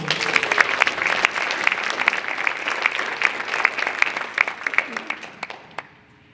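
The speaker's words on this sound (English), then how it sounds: "Let's give the Braham community one more round of applause." Audience applause at a book release event hosted in a library for a community, steady dense clapping across the room that thins out and fades near the end.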